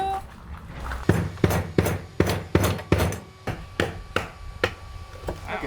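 Hammer blows on a workbench during prep work for rebuilding a sunken catamaran, about ten sharp strikes in a steady, fairly close rhythm after a quiet start, with no talk.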